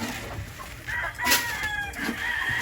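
Gamefowl on a farm, pullets and laying hens penned together, with a rooster crowing clearly over a steady background of clucking and hen chatter, close and continuous with no talk.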